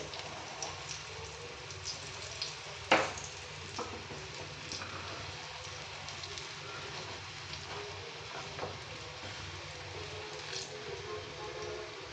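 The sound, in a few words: pointed gourd frying in oil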